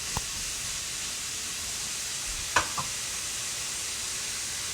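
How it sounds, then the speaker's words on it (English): Cabbage stir-fries in a hot pan for soup, a faint steady sizzle with a few brief clinks of a utensil against the pan partway through. "So we are basically stir frying the cabbage and all that good stuff in there."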